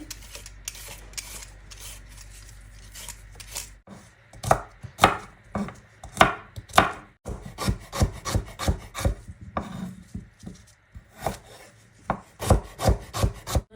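A knife chops ginger and garlic on a board in quick, uneven bursts of close, crisp thuds, with pauses between runs and a brief scraping stretch at the start.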